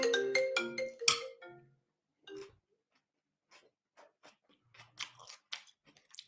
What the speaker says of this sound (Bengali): আমেরিকার থেকে ফয়সাল ভাই ফোন দিছে একটু ধরি